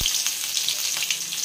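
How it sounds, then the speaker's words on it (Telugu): Tempering spices sizzle and crackle in hot oil in a pan, a loud close hiss dotted with quick popping bursts and no talk. "ఈ పోపు దినుసులు కొంచెం చిటాపట అనాలి"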